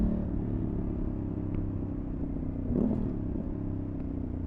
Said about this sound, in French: le downshift au race matching, c'est vraiment top sur cette moto